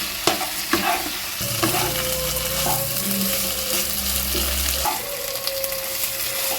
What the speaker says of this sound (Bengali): সমস্ত মশলাটার সঙ্গে কিন্তু খুব ভালো করে মিশিয়ে নেব এতে কিন্তু আলু এবং সমস্ত মশলা খুব ভালো করে কষানো হয়ে যাবে